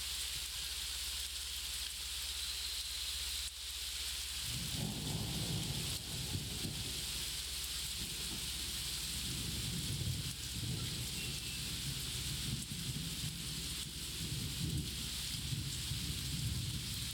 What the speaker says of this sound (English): Besides the loud ass rain.